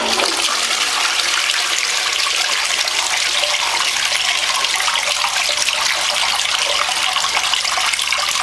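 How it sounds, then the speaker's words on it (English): A toilet in Christchurch, New Zealand, flushes with a loud, steady rushing gush of water that runs continuously and close up, with no voices. "testing to see which way the water flows"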